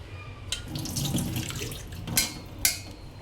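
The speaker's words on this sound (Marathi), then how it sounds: "त्याच्यामध्ये पुन्हा थंड पाणी टाकून आता ते पण आपण ड्रेनेज करून घेणार आहेत" Cold water running and splashing as boiled falooda noodles are rinsed and drained in a kitchen sink, a steady close rush with a few sharper splashes.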